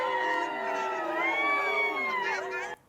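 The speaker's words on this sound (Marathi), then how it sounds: "कार्यकर्त्यांकडून मोठ्या प्रमाणात हा जल्लोष साजरा करण्यात येतोय" A crowd of party workers celebrating a local election victory in Gopalpur, a dense, sustained swell of cheering and shouting voices that holds at a steady level, then cuts off abruptly.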